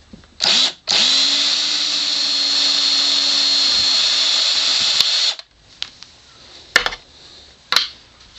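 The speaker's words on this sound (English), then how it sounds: "And I'll finish drilling that." A power drill bores a hole through a PWM case, running loud and steady for about five seconds with a constant whine, followed by a few short bursts and clicks as it stops and starts.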